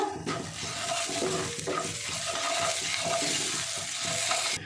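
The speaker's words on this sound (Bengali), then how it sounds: "মশলাটা একটু 2 মিনিট ভেজে নেব।" Spice paste fries in a hot pan with a close, crackling sizzle and occasional stirring scrapes, steady throughout with no talking.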